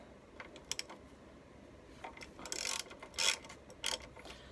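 Ratchet working loose the tight front brake caliper bolts on a Honda CBF 125 motorcycle: close, dry clicking bursts in short uneven runs, with a louder rasping stretch near the end.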